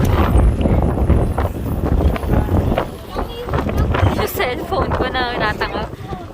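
Strong wind roars across the microphone aboard a boat heading to Boracay, Philippines: a steady, close, buffeting rumble that never lets up, with voices mixed faintly beneath it.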